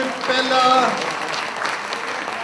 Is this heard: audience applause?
yes